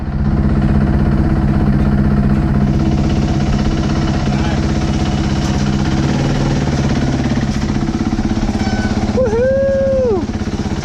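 A motorcycle engine running steadily and loud up close as a ride begins in the mountains, a constant low drone with a brief whistling tone near the end.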